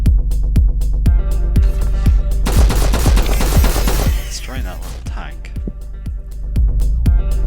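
Rapid, evenly spaced gunfire in the video game Flashback destroys a small tank, sharp shots repeating throughout, with a louder burst of explosive crackle in the middle before the steady firing resumes.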